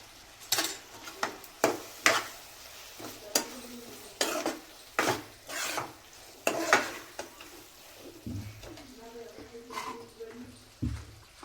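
Sandwich filling stirred and mixed after salt is added, a spoon clinking and scraping in a bowl in repeated sharp strokes, close and fairly loud, with a voice talking in the final seconds.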